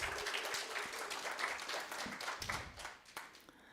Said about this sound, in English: let's again give him a round of applause for